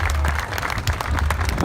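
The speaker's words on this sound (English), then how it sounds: "So give them a big round of applause." A crowd at an outdoor truck meet in Atlantic City claps steadily, a dense wash of applause over a low rumble.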